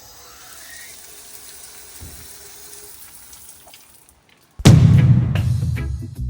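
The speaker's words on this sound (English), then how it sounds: "Shower." Water bursts on loudly and steadily from a shower in a home on a 46-acre Hawaii property, following several seconds of quiet room tone.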